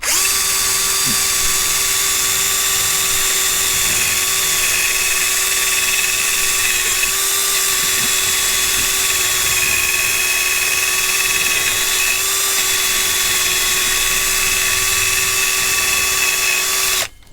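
A drill with a wire brush runs in a continuous high, steady whine with faint scratching beneath, close and loud, cutting off at the very end.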